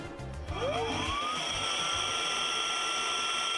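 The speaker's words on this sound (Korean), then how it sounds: "펌프 작동" A Kudi smart electric pump, fitted to an inflatable air tent pole with its dedicated nozzle, starts up with a rising whine that settles into a steady, loud motor drone.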